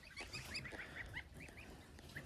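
Repeated goose honks, several calls in quick succession from a nearby flock, over a constant murmur of other fowl, including a lying pied crested goose.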